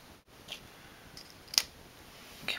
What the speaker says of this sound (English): I'm just going to go ahead and cut this out with my scissors now.